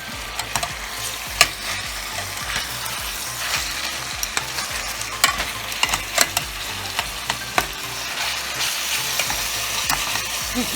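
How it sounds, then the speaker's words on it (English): Chicken with thyme sizzles in a pot on the stove while the pot is shaken, steady frying hiss overlaid with scraping and irregular rattling knocks of metal against the burner. "Shaking my pot, letting this cook."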